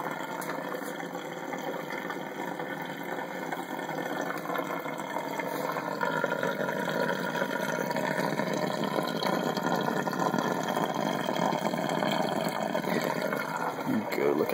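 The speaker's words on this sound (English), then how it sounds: "That should drain this tank pretty quickly." A DIY drainer pumps water out of a 75 gallon tank, giving a steady rushing, churning flow that runs without a break and stays fairly loud and close the whole time.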